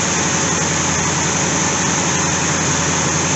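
A Chevrolet Corvette C4 engine with a fuel problem runs steadily close by, a dense continuous drone with a low rumble that holds fairly even and shows no clear rev.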